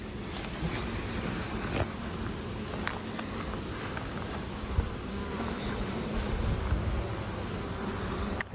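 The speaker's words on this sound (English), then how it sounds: "It's a European hornet." A European hornet buzzes steadily near beehives outdoors, a continuous insect drone without speech.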